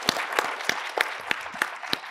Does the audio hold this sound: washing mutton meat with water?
no